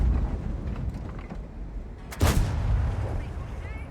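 Tank gun firing in World of Tanks, a single sharp, loud blast cracking out over a low rumbling battlefield ambience, followed by a short decaying tail.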